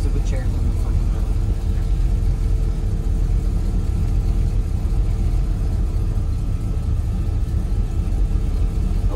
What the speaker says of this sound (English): I like the rumble of this car.